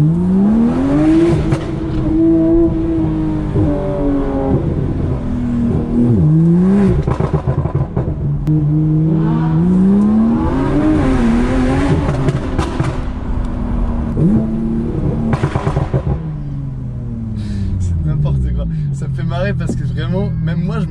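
A Porsche 911 Turbo S engine revving from about 2500 up to 7000 rpm, repeated loud climbing sweeps with throttle drops between, heard close from inside the car while someone talks over it.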